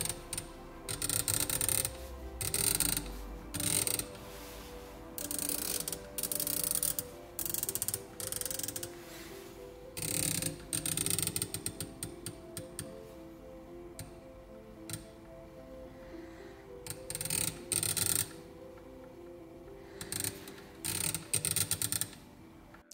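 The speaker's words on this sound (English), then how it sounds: "However, the clicks are extremely tactile and extremely audible." Turret adjustment clicks on a Riton 3 Primal 3-18x50 riflescope: close, crisp ratcheting clicks in repeated bursts separated by short quiet gaps, with no talking.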